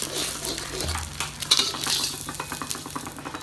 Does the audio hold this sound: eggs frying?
yes